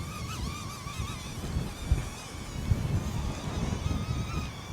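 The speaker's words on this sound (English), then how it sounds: "It's really struggling in that wind." Strong gusty wind in an open field buffets the microphone with a low rumble while a DJI Neo drone whines thinly overhead during flight.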